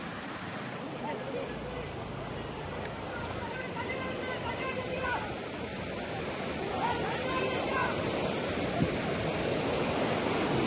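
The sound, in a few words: rushing floodwater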